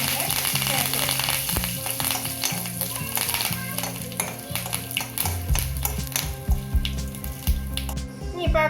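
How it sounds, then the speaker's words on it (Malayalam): Fenugreek, mustard seeds and dried chilli frying in oil crackle and sizzle close up while a spoon stirs and scrapes the pan, all over a steady bed of background music. "അതിനുശേഷം അതിലേക്ക് ഒരല്പം കടുക് ഇട്ട് കൊടുക്കാം"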